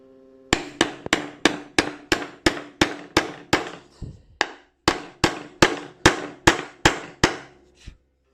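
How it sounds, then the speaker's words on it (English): A hammer knocks a part into a wheel-assembly jig for a 2-inch scale Fowler Showman's traction engine, giving about sixteen sharp, ringing metallic blows in a steady rhythm with a short pause midway, close and loud, with no speech. "Let's try the hammer."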